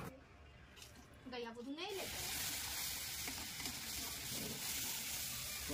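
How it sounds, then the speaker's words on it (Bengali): Pieces of giant freshwater prawn fry lightly in hot oil in a pan, a loud continuous sizzle starting abruptly after a brief voice, steady and close throughout. "প্রথমে এই গলদা চিংড়ির পিসগুলোকে একটু হালকা করে ভেজে নিলাম।"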